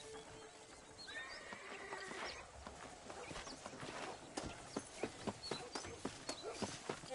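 Horse hooves clip-clopping in the western video game Red Dead Redemption, a steady walking rhythm that grows louder toward the end, with a whinny and other game ambience earlier and no speech.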